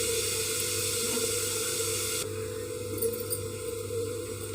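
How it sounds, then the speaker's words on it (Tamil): Liquid poured through a strainer while making bottle gourd sambar, a steady close splashing, trickling flow that runs continuously and softens slightly partway through, with no talking. "வடிகட்டி ஊற்றணும் அந்த பூசியெல்லாம் இருக்கும்ல அதனால வடிகட்டிடணும்"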